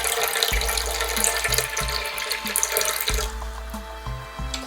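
Water pouring from a tap for pizza dough, 300 grams measured out in a steady close splashing stream that runs throughout, with no talk.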